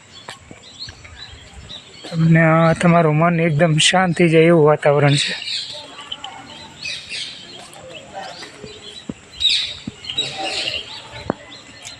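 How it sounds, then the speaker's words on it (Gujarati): Birds chirp and call around a Shiva temple, a loud burst of repeated bird song early on, then scattered chirps continuing faintly beneath a person speaking. "પક્ષીઓનો કલરવ છે."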